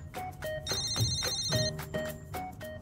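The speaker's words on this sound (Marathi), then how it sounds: "अरविंद काकांचा फोन" A phone ringtone chimes in a repeating melodic pattern, clear and close, with no voices over it.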